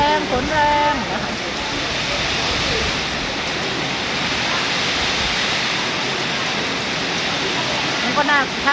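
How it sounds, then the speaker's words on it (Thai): Heavy rain pours steadily during a storm with wind, a dense continuous wash of noise that stays loud throughout, with a few faint voices briefly audible at the start and end. "ฝนแรงฝนแรงนะคะ"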